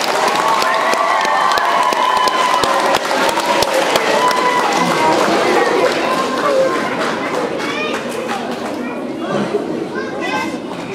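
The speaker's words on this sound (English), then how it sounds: "Big round of applause for Brady." A school spelling bee audience claps steadily and loudly in a hall for a contestant, a dense continuous patter with cheering and children's chatter mixed in throughout.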